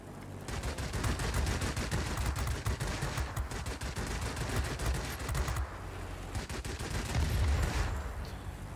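Rapid automatic gunfire from Yak-3 fighter cannons and P-51 machine guns in World of Warplanes, with dense, continuous bursts that dip briefly and then resume. The fire is loud and close under a steady engine roar.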